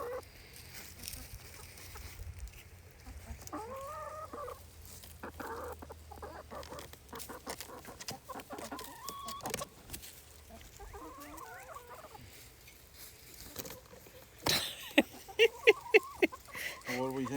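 Free-range backyard chickens cluck and murmur in short scattered calls at moderate distance, with a person talking intermittently over them and a burst of rustling and louder squawks toward the end.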